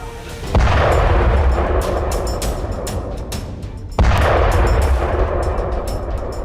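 Two heavy booms from Israeli bombardment of Gaza at night, each hitting sharply and then rolling on as a long, loud rumble, spaced about three seconds apart.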